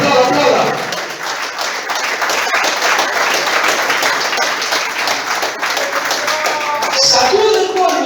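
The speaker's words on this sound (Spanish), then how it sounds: "Aplauda, aplauda, aplauda," A church congregation bursts into loud, sustained applause during a Spanish-language sermon, dense clapping filling the room with shouts and voices mixed in.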